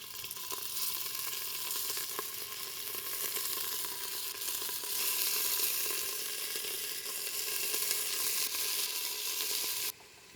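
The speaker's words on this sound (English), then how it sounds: "And we need to brown our meat." Beef cubes browning in olive oil, a batch of about two pounds sizzling steadily in a hot pan, close and continuous crackle that cuts off abruptly at the end.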